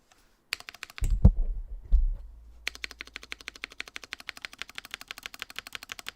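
Keystrokes on a mechanical keyboard fitted with Glarses and BadSeedTech switches, a few heavy thumps at first, then a fast, steady run of crisp, close clicks on their own.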